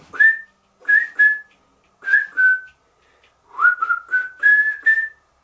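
A close, clear whistled tune in short phrases of gliding notes, separated by brief pauses, with nothing else around it.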